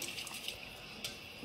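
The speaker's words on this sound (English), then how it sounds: "You hear the water running." A bathroom tap running while someone brushes their teeth, heard as a faint, steady hiss of flowing water with light splashy ticks, alone and close.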